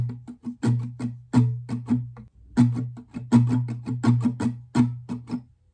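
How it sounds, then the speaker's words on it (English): Acoustic guitar strumming pattern 1A for a song, brisk rhythmic strokes with sharp accents and percussive hits, close and alone, with a brief dip in the middle. "pattern 1A would sound like this."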